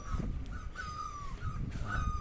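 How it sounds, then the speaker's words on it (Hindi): Birds call in the early evening outside a roadside tea stop near Katarmal Sun Temple in Almora, Uttarakhand: a few thin, wavering calls repeat over a low rumbling background, moderately close and without talk. "और ये बर्ड की आवाज सुनो"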